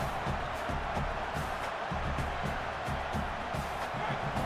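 Stadium crowd noise from the College Football 27 video game on Xbox Series X, a steady dense roar with rhythmic thumps and bursts of cheering that never lets up.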